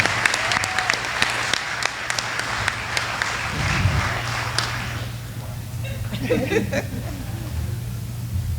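Dense applause from a dinner crowd at a service awards event honoring a county sheriff, loud and sustained for about five seconds before tapering into low murmur and a speaking voice.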